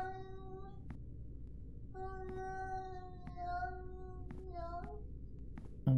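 Cats meowing in the video game Yuppie Psycho, several separate short mews spread over a few seconds, faint against a quiet low hum, with no talk.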